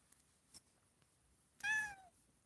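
A cat gives a single short meow, faint and a little distant, after a couple of small soft knocks in an otherwise quiet indoor room.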